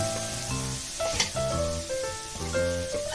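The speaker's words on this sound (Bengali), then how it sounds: "এর মধ্যে আমি জল ছিটা দিয়ে দিলাম।" Water sprinkled onto a hot nonstick tawa before making dosa, a close, continuous sizzle and hiss with bright crackling bursts, and no talking.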